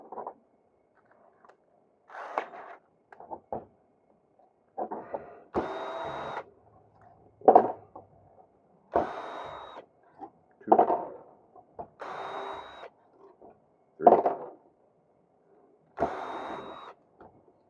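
A power driver backs four screws out of the end of a Ryobi 40 volt battery pack, heard as short whirring bursts in a repeating start-stop pattern separated by near silence, close and clear.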